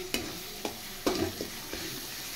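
Spices with salt and turmeric being stir-fried in a pan for a Bengali dinner dish, a steady soft sizzle under a few scraping strokes of a spatula against the pan, close and fairly quiet, no voices.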